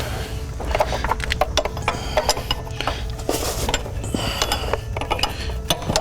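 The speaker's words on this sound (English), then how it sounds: "after one more nice turn of the wrench here" A metal wrench works a high-pressure fuel line fitting on a 2003–2007 Dodge Cummins diesel, giving close, irregular ratcheting clicks and metallic clanks with no talk.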